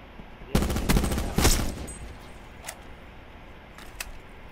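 Gunfire in Call of Duty Blackout rattles out in two loud rapid bursts close together, then a few fainter, more distant isolated shots trail off over quiet background.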